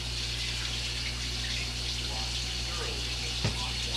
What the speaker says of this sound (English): You wash thoroughly with hot water and soap.